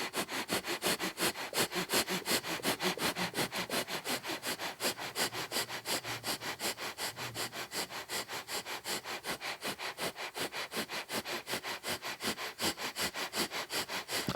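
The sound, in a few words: breath of fire, rapid yogic nasal breathing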